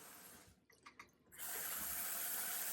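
Warm tap water runs over a gloss spray nozzle, a faint trickle that breaks briefly before the stream returns as a steady, fuller rush near the faucet.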